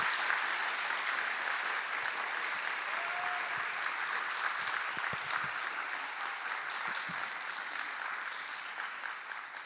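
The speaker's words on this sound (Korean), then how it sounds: "이 박수 한 번만 부탁드립니다" An audience in a lecture hall applauds at the closing of a Saturday talk, a dense, steady wash of clapping that carries on for several seconds and tapers slightly toward the end.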